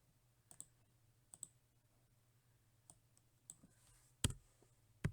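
Computer mouse clicks, a handful of sharp, sparse taps spread unevenly over a few seconds against a faint electrical hum, close and quiet.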